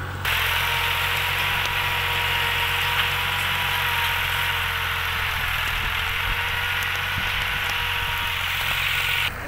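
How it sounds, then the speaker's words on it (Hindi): A tractor engine running steadily in a wheat field during sowing, a loud, even idling drone with constant mechanical vibration and no voices. "इमरान बैठा काफ़ी देर से ट्रैक्टर पर जूते ले रहा है"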